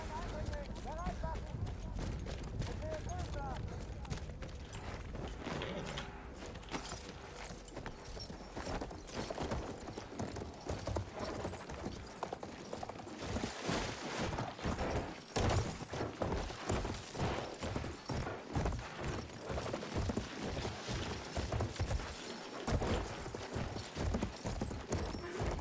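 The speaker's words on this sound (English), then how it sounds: "Want us on that damn horse." Horse hooves in Battlefield 1 clatter in a fast, steady rhythmic gallop that grows stronger and more regular through the second half, heard under occasional talk and distant combat noise.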